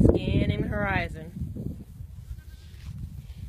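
Goats bleat loudly and close by in a pasture during herding, one long wavering call followed by rustling and fainter movement.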